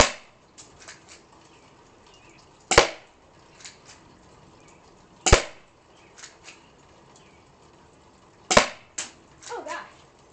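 Three sharp, loud airsoft gun shots ring out a few seconds apart, each a crisp snap, with softer clicks and light handling noises between them.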